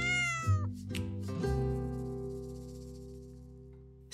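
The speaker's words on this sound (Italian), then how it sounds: "Miau!" A domestic cat meows clearly and close up: a few rising, tonal cries in the first second and a half, then one long drawn-out meow that holds and slowly fades. There is no talking.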